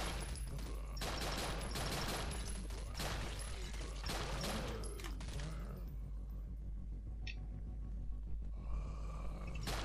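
Bursts of rapid video game gunfire and loud blasts crowd the first half, easing into quieter noise with occasional distant shots and faint sounds.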